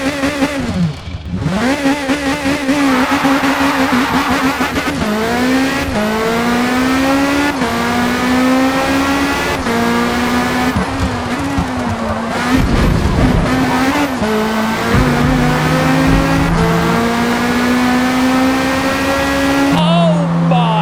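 A Lamborghini Le Mans hypercar with a hybrid system in Forza Motorsport howls through repeated rising revs and gear shifts, loud and close, with brief tire squeal, while a voice talks over it.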